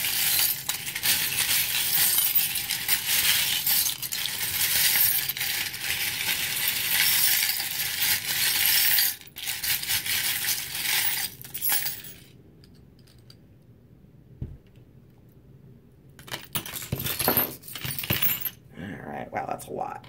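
Metal charms tossed onto tarot cards, a dense bright jingle and clink that runs for several seconds, then a few scattered clicks and a final shake, with a voice speaking at times.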